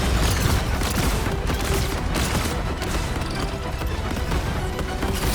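Weapon fire in the Marvel Rivals shooter comes as a dense, continuous volley of blasts and booms, loud and close throughout, with other battle effects layered in and no voices.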